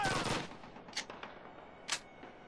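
An MG42 machine gun in Call of Duty at a train station sounds as a few short, sharp bursts of fire at moderate distance, with a louder rattle at the start and two later cracks, under a low ambient hum.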